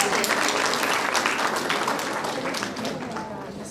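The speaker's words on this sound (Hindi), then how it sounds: "जोरदार तालियों से इनका इस्तकबाल कीजिए।" Audience applause greets a student performer at an inter-school mushaira in Solapur, a dense wash of clapping that holds steady and slowly tapers over a few seconds, with some voices mixed in.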